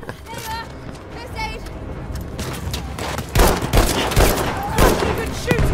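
A Czechoslovak-developed gun used by the Chinese National Revolutionary Army fires in a video game, with sharp shots growing louder and more frequent in the second half, under steady narration.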